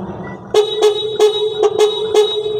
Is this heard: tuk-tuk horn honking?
yes